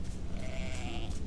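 A sheep in a video game demo lets out a single short, close bleat against a low background hum.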